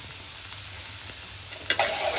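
Onions and curry leaves sauté in a pan with a little rock salt, giving a steady close sizzle with a brief utensil clatter near the end.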